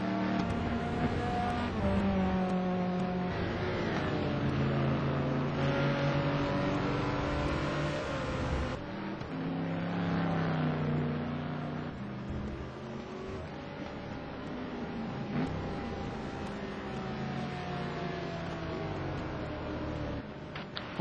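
A race car in a video game at the virtual Paul Ricard circuit drives along the start-finish straight, its engine droning and rising through gear changes in a sustained loud whine, with no voices.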